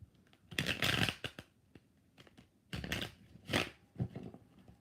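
Tarot cards being shuffled in several bursts, each a brisk papery riffle of a second or so, separated by short quiet gaps and lighter taps, close and fairly loud with no talk.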